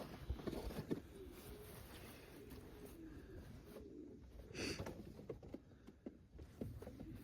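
Pigeons coo softly amid a loft of Janssen De Klak racing pigeons, low murmuring calls with light shuffling and flapping, fairly close and moderately quiet.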